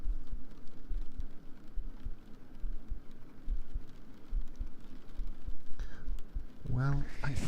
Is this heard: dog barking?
no